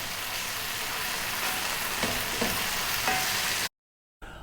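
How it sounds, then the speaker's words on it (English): Tomato paste cooking out in a pot for lamb shanks gives a dense, steady sizzle and bubble with a few soft stirring scrapes near the end, then a brief drop to silence before the frying returns. "just wanna cook this tomato paste out a little bit. So stir fairly often now."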